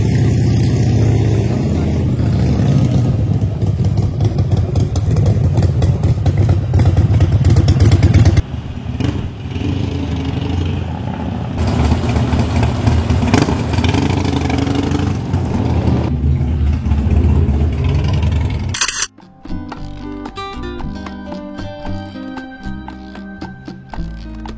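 Harley-Davidson Softail motorcycles start up and ride off at night, their engines rumbling loudly and steadily before cutting abruptly to clattering, quieter engine noise near the end.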